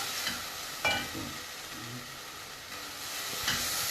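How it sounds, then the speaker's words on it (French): Onions frying and caramelizing in a pan outdoors in a garden, a steady close sizzling hiss with a few sharper scrapes and taps of stirring, with no talking. "Là, les oignons commencent à se caraméliser un tout petit peu."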